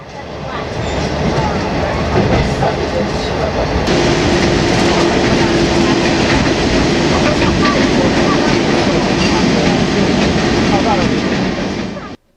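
Continuous rumbling and rattling of a train rolling along the rails at about 120 km/h in southern China, steady and loud throughout, with a faint tone rising partway through.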